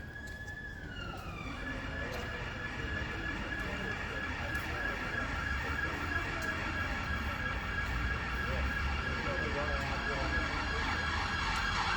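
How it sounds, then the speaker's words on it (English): A police car siren wails, rises and holds a steady high tone, sounding fairly close above a constant rumble of street traffic. "I can hear sirens."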